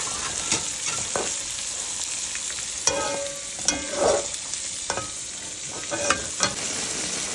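Ridge gourd pieces stirred into a pan of frying spices (turmeric, coriander and cumin powder) for a Rui fish curry, steady close sizzle with scraping utensil strokes at irregular intervals.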